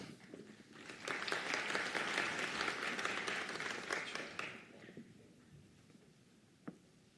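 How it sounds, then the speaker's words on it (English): Audience applause at a nursing school graduation ceremony, swelling quickly into a full round of clapping that lasts about four seconds, then fades to quiet room noise with a single faint knock near the end. "Round of applause for her."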